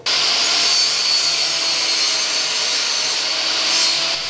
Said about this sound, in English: turns on this giant shop air cleaner whenever it hears a woodworking tool